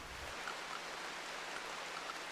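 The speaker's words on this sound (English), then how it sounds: "which is good timing because it's raining." Rain falling in the video game RimWorld, a steady soft hiss of drops spread evenly throughout, faint and continuous with no other sounds over it.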